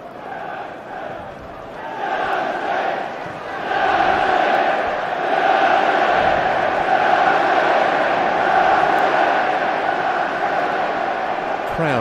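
A big football stadium crowd at Manchester United vs Charlton Athletic keeps up a steady, dense roar in the second half. It swells louder partway through and then holds there.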